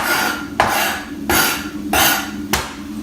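A kitchen knife cutting through a large onion on a chopping board, several firm thunks of the blade striking the board at a steady pace, close and fairly loud with a hum in the background.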